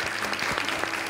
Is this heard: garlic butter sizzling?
no